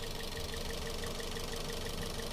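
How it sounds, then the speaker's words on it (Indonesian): Used car's engine idling during a workshop inspection, a faint steady mechanical hum with a light ticking rhythm running unbroken for a couple of seconds, with no voices. "suara mesinnya"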